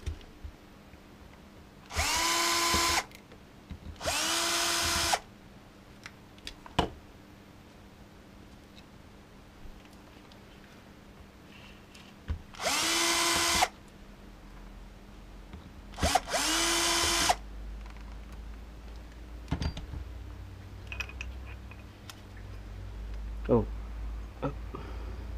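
Power drill backing screws out of the plate of a Ford FMX automatic transmission during a rebuild, four short loud whirring bursts spread among quiet clinks and handling noises in a workshop.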